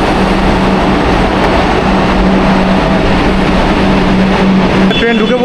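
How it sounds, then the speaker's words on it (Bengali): A Kolkata Metro train pulls into a station with a loud, continuous rumble and roar, steady throughout with a low hum, then a brief tonal squeal as it slows at the end. "ট্রেন ঢুকে পড়েছে"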